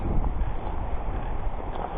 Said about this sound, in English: it's so windy that we're not going to be able to make it very far.